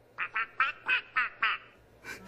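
A cartoon duck quacks in a rapid run of six evenly spaced, loud raspy quacks, then one more after a short pause, with no talk.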